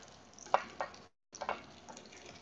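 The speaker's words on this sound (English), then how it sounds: "first, you want to stir fry the protein ingredients" Pork belly, prawn and fish cake stir fried in lard, a steady sizzle broken by several scraping, tossing strokes of a utensil against the pan, close up and without talking, with a brief silent gap.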